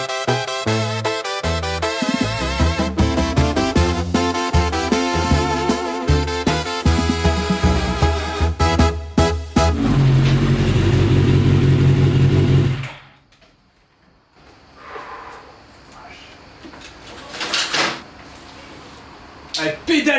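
A Yamaha FZR R motorcycle engine revs hard in rapid, loud bursts with busy mechanical clatter. It sustains a high roar and then cuts off abruptly into a quieter passage with a few scattered noises.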